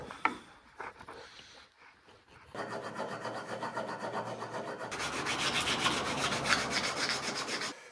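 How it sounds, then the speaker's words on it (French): A hand file rasps and sands a fork part from a Honda 600 Shadow chopper, with rapid rhythmic scraping strokes that begin quietly and grow louder and denser, close up. "On va le poncer un petit peu."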